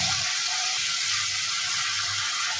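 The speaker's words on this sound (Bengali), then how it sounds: "এখানে একটু মশলাটাকে ভালোভাবে কষিয়ে নেব" Spices and chillies fry in a pan as a steady, close, hissing sizzle with faint low rumbling underneath and no talk.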